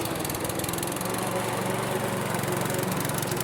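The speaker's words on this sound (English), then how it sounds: "If you guessed a lawnmower mowing the lawn, well done." A lawn mower runs steadily up close, its buzzing engine droning without pause.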